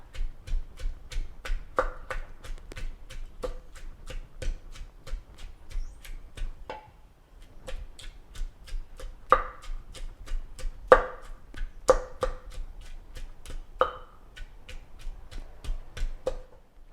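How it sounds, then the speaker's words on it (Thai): Garlic and shallots with a little salt pounded in a mortar for Thai nam prik num chili paste: a long run of sharp, regular pestle thuds, close and crisp, with a few brief pauses. "ตำกระเทียมกับหอมแดงให้ละเอียดก่อนนะคะ"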